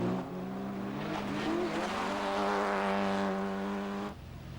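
Rally cars from the 2-litre class, including a Vauxhall Astra and a Peugeot, race flat out through Yorkshire forest stages, engines revving hard and close with tyre squeal, then cutting off abruptly near the end.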